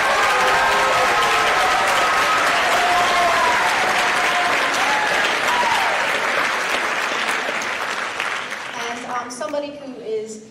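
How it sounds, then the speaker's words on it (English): A school board meeting audience gives teachers sustained, loud applause, dense clapping continuing for about nine seconds before thinning out near the end. "Please give them a round of applause."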